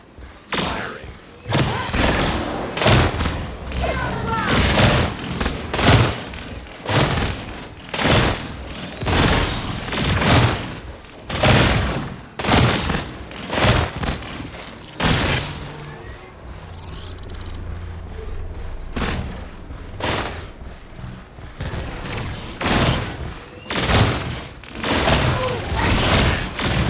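Tower guns in the MOBA video game Predecessor fire during a siege, a steady barrage of heavy booming thumps and bursts repeating every second or so, loud and close, with a brief lull mid-way before the firing resumes.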